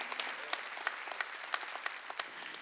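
Worshippers applaud during a Wednesday church service, a full round of clapping with sharp individual claps popping out above the crowd's steady patter, lasting a few seconds.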